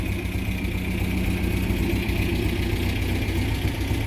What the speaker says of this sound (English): As you can hear, cars ticking over nicely.